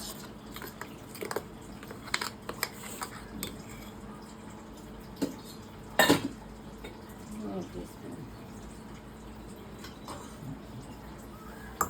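A spoon mixing cumin chutney in a bowl makes soft wet scrapes and light clinks, with one sharper knock partway through, all fairly quiet and close under a low background.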